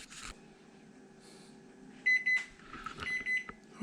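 An oven timer beeps in a few short, sharp electronic tones, close by, amid faint kitchen clatter, as oven-baked parmesan fish sticks finish.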